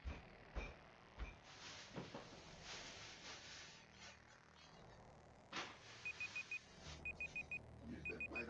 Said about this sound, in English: I hear the alarm. I hear it.